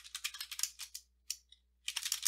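Close, crisp keystrokes on a computer keyboard while Python code is typed: quick bursts of clicking broken by short pauses, with no voices.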